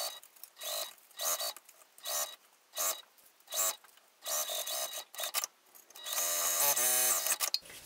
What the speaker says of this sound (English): I'm going to sew the long edges on both sides just in a circle around each